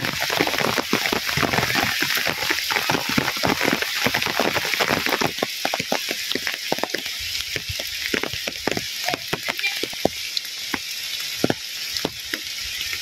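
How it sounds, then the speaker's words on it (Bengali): Light rain falls outdoors in a rural setting, a dense pattering hiss with many scattered drop taps, steady and close, thinning slightly toward the end with no voices. "বৃষ্টি আস্তে আস্তে থামতেছে, কুড়া কুড়া বৃষ্টি শুরু হয়েছে।"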